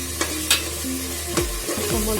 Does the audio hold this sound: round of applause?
no